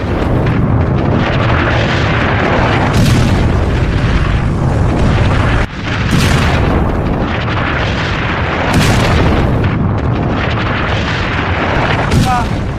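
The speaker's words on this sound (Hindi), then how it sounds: "जहाज जैसे ही वहां तक पहुंचते हैं और धमाके हो जाते हैं, ठीक इस तरह से करके धमाके होते हैं।" Sea mines explode against ships in a computer-generated sequence: a run of heavy booms roughly every three seconds, each a loud, broad blast with a rumbling tail, while someone talks over them.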